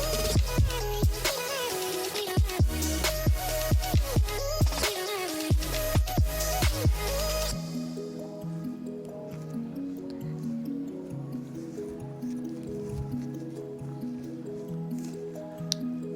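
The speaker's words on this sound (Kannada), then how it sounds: "ಈಗ ನಾನು ರುಬ್ಬಿರೋ ಮಸಾಲೆನ ಈಗ ಆ್ಯಡ್ ಮಾಡ್ಕೊತಾ ಇದ್ದೀನಿ." Ground masala paste goes into a pan for tomato bath, starting with a run of wet squishing plops and drips, loud and close, then settling into a softer, steady sizzle and murmur.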